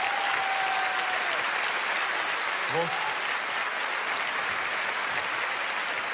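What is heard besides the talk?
audience applause for spectator coming on stage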